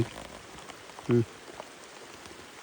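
Rain patters on a box outdoors at a hillside farm in a soft, steady hiss, with a couple of brief louder knocks standing out against the constant fall.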